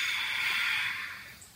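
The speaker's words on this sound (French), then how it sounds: "J'inspire. J'expire." Slow deep breath through the nose during a Tibetan rites yoga exercise, a single long, steady airy hiss close to the ear that fades toward the end, with no talking.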